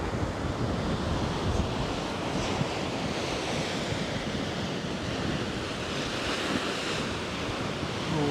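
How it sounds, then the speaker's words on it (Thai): Steady roar of ocean surf breaking continuously at Khao Laem Ya National Park in Rayong, Thailand, mixed with wind rumble buffeting the microphone, loud and unbroken throughout with no voices. "เสียงคลื่น"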